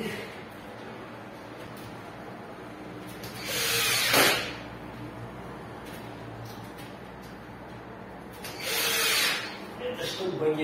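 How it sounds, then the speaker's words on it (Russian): Power screwdriver driving a self-tapping screw into a wall to fix a stretch-ceiling baguette, two short whirring bursts a few seconds apart over steady room noise. "Закручиваем второй саморез."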